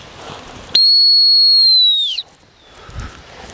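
A single shrill, sustained blast from a gun dog training whistle sounds clearly for over a second, sliding slightly down in pitch at the end, with quiet outdoor background before and after.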